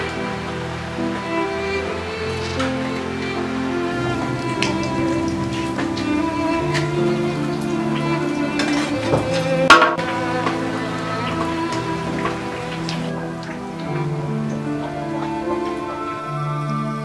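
Rain falls steadily with a soft, even patter, overlaid by gentle sustained musical tones and a brief louder splash partway through, with no voices.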